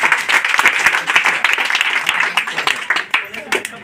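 Students applaud their teacher at a Teacher's Day gathering in a school, a dense, loud burst of clapping from a crowd sustained throughout, with a voice speaking faintly underneath.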